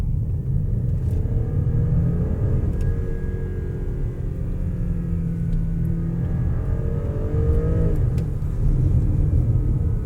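A 2023 Porsche Cayenne with a 3.0L V6 turbo engine while driving, its low rumble loud and constant inside the cabin, with gentle rises in revs as it pulls along.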